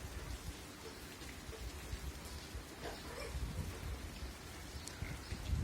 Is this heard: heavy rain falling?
yes